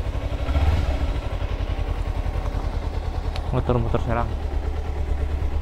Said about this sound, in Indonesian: Kita jalan-jalan Serang sembari manasin ini motor.